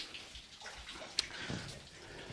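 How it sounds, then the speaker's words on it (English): Water dripping into a small pool in a stone cave beneath Jerusalem: a faint, hollow trickle with one crisp drip near the middle, quiet and echoing. "The water drips down in a small pool known as Zedekiah's Tear."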